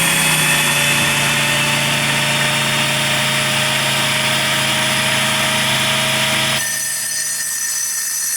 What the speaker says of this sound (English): We don't have power here, so we're having to use that Honda generator.